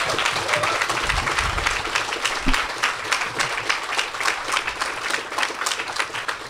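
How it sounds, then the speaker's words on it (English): Audience at the Bugglebots 2019 robot combat grand final applauding after a semi-final rematch fight, sustained crowd clapping with dense rapid claps throughout, fairly loud and steady. "Can we have a round of applause for that?"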